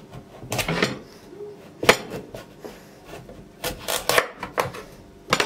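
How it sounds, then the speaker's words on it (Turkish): A kitchen knife cuts a pumpkin in half while making Turkish pumpkin dessert: a few close, crisp scraping and crunching strokes come in uneven bursts, with no talking. "İçini temizledikten sonra bıçakla önce ortadan kesiyorum."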